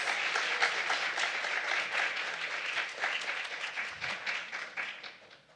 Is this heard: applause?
yes